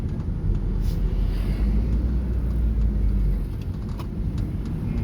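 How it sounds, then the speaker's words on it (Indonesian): A car engine climbing to high revs before a gear change, a loud, steady low rumble and drone up close, easing slightly near the end. "Nah, jika RPM sudah tinggi atau masih mengaung, maka teman-teman wajib mengganti gigi."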